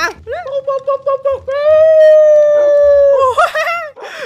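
A dog in Minecraft gives a string of short, rising yelps, then a long, steady, loud howl, ending with a few more quick yips up close.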